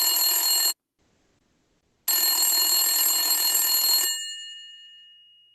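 A cell phone rings unanswered in two loud electronic bursts separated by a silent pause, the second burst stopping abruptly and leaving a fading echo.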